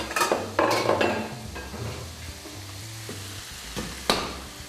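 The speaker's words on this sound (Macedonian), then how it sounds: "Да се пржи варедната" Food frying in a pan on a home stove: a steady sizzle, with stirring clatter and clinks of the utensil against the pan.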